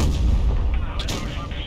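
A tank cannon fires in World of Tanks Blitz from a Vz. 55, a heavy booming shot with deep low rumble and a sharper crack following, loud and close.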